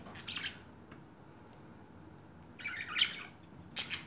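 A small flock of pet budgies, scattered chirps and squawks in short bursts at the start, middle and end, fairly faint against a quiet room.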